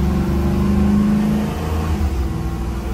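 A new Thor Freedom A32 motorhome pulling onto a highway, its engine revving with a steady mid-pitched drone and rising tone, close and continuous.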